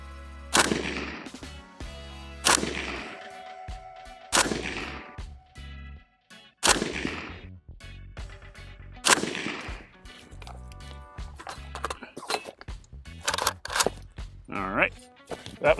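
An FB Radom Beryl 7.62 rifle fires Tula 122 grain full metal jacket rounds in about five loud, sharp shots spaced a couple of seconds apart, each with a ringing tail, then quicker bursts of clatter and handling noise.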